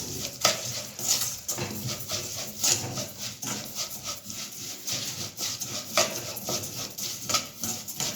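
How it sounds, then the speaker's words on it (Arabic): A spoon stirring and scraping vermicelli as it fries in oil in a metal pot, steady rhythmic scrapes and clinks over a soft sizzle, close and clear. "هنفضل نقلب فيها لحد ما تحمر كل الشعريه"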